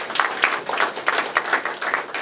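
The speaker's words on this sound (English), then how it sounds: "give yourselves another round of applause" A short round of audience applause in a locker-room event space, uneven clapping with distinct rhythmic bursts from a moderately sized crowd, fairly close and without talk.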